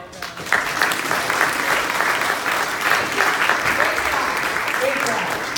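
Sunday school audience clapping for the puppeteers, a steady, dense round of applause filling the room from start to finish.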